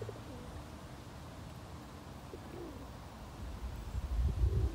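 Soft, low pigeon cooing repeats in the background over steady outdoor ambience, swelling louder toward the end.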